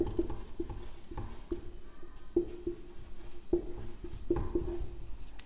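Chalk taps and scratches across a classroom board during a science lesson, sharp irregular knocks with short scraping strokes between them, close and moderately quiet, with no talking.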